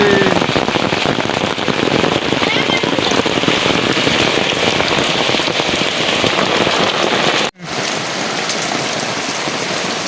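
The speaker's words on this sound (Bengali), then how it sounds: "তো অনেক বৃষ্টি করতেছে" Heavy rain pours steadily onto surfaces outside a village kitchen, a dense loud hiss of drops lasting throughout, with a brief dropout partway before the downpour continues.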